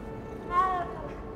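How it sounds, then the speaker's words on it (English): A cat meows once in Hogwarts Legacy, a short, clear mid-pitched call rising briefly out of quiet game ambience. "Why did the cat just spawn into existence?"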